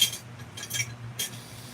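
A spoon clinks lightly against a dish in a home kitchen, with a few short bright taps close by over a low hum and no speech.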